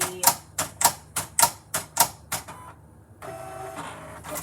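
Electronic craft cutting machine cutting homecoming mum cutouts: a loud, regular series of about eight sharp mechanical clacks, then a pause and a steadier motor whir, close and without talk.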